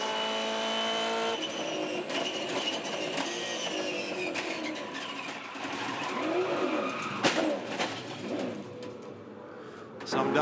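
A V8 Supercar races over oil on the Tasmania SuperSprint track, its engine note loud and continuous throughout, with the tone shifting and a brief sharp burst near the end.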